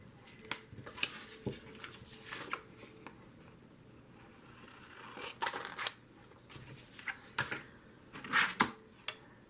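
Scissors snip through paper for a junk journal in a series of crisp, uneven cuts with short pauses and light paper rustling, close and alone without speech.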